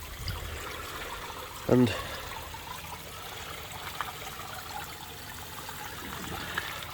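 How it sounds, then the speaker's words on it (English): Water from a hose sprays over a pond filter, a faint steady hiss and trickle with a single brief spoken word in the middle. "Give them a good hose out"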